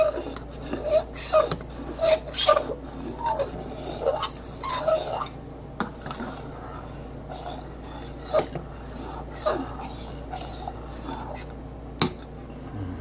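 Pork chops stirred in a pot on a stovetop: scattered metallic scrapes, clinks and rubbing of a utensil against the pan, intermittent and close, with quiet speech between the sounds.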